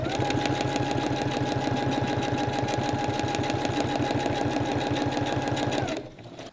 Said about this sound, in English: You can use some specific design or you can randomly sew as I'm doing now.